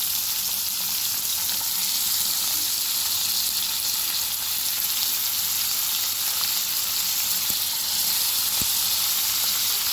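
Chopped vegetables sizzle in hot sesame oil with a steady, bright, hissing crackle, close and continuous, with faint stirring clicks now and then.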